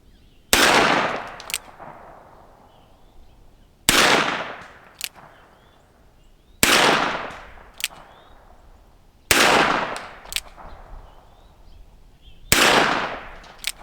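Five loud, sharp gunshots from a Charter Arms Professional .357 revolver, fired one at a time at steady intervals of about three seconds, each followed by a short ringing decay.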